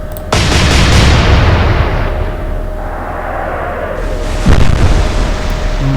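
A loud naval gun salvo from a warship in Atlantic Fleet, a sharp booming blast followed by rolling rumble, then a second heavy thud of shells exploding at distance.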